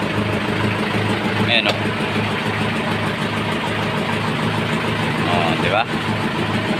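Mitsubishi Fuso Canter mini dumper with a 4D32 diesel engine running steadily as the bed raises to dump, a loud close rumble under continuous talk.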